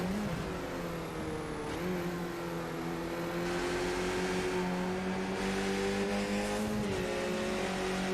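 Racing cars in a video game race at Watkins Glen roar steadily and close, engines holding high rising tones with gear changes, accelerating alongside each other through the run with no talk.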